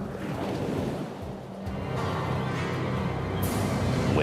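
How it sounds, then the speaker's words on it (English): Ocean waves wash and surge around the floating hulk of the old warship USS Constitution, a steady broadband rush of surf with gusty wind, no voices. "Waves might wash over the deck and might force it further under."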